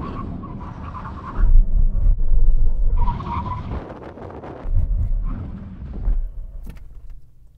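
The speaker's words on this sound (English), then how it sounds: "full emergency stop from 70 miles an hour" A Lamborghini Urus makes a full emergency stop from 70 mph, with tire noise and the loud rush of the SUV hauling down to a halt in two strong surges before settling.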